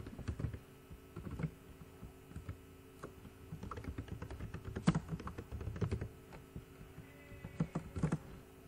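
Fingers type code on a computer keyboard in quick irregular bursts of clicking keystrokes over a faint room hum, close and quiet, with short pauses between runs.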